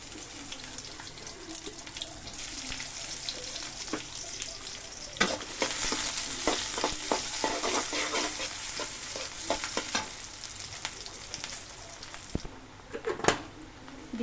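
Chopped onion frying in hot mustard oil, a bright sizzle that builds when the onion goes in, with scraping stirs and clinks over a running-water background, no talk.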